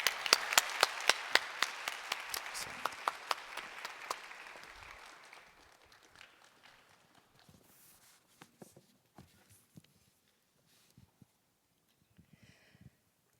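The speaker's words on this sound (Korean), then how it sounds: "우리 박수로 맞이해 주시길 바랍니다." Church congregation applauding during a Christmas Sunday worship service, a burst of loud, dense clapping that gradually thins out and fades into scattered claps and quiet room noise.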